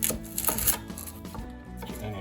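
A sharp knife chopping an onion on a board, several crisp irregular cuts close by, louder at first and then softer, with no talk.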